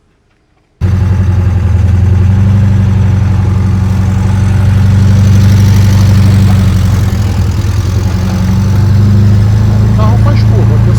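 A homemade narrow car's engine runs steadily and loud at close range as the car drives and circles through a turn, with a low rumbling drone throughout after a brief quiet start.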